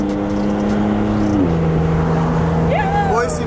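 A pink Porsche's engine hums steadily up close, dropping in pitch as the car pulls away, with people talking over it.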